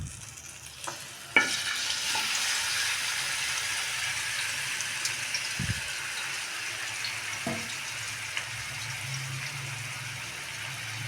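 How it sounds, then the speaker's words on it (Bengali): Marinated meat fries in hot oil in a wok, giving a steady sizzle after a sharp start as it goes in, with occasional clinks and scrapes throughout and no voices. "এই যে কড়াইয়ে তেল গরম হয়ে গেছে, এখন আমি ম্যারিনেট করা মাংসটা আমি দিয়ে দিব"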